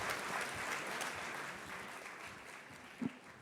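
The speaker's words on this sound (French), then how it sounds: "que je vous demande d'applaudir bien fort" An audience at a real estate conference applauds to welcome a speaker; the clapping is faint and fairly distant, tapering off over a few seconds.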